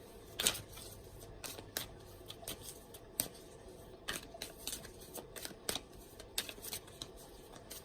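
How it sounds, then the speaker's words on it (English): Tarot cards being shuffled by hand close by, a faint series of quick, crisp riffling snaps and soft slides in an uneven rhythm, with no voices. "Let me shuffle these cards and..."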